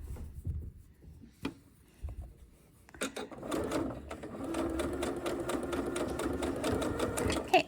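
A sewing machine stitches a flutter sleeve dress: a few quiet handling sounds and short taps come first, then a steady, fast, rhythmic mechanical run that continues to the end.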